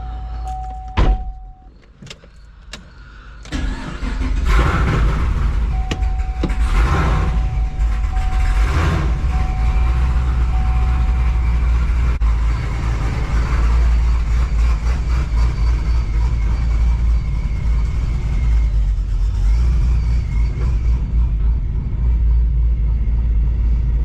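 A car engine fitted with a performance cam, running before calibration, idles with a heavy, loping low rumble after a few clunks and short tones at the start, then settles into a loud, steady, uneven idle.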